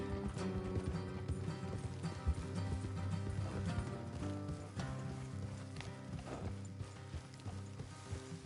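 Steady clip-clopping hooves of horses moving along in a PS4 video game, layered over a dense background of music and ambient game sound, continuous throughout.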